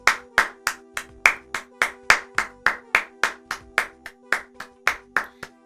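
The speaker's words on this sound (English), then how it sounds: "we give a round of applause to whatever his name was, Hag." Hands clap alone in a steady, even rhythm, about a dozen and a half sharp claps close to the listener, with no crowd joining in.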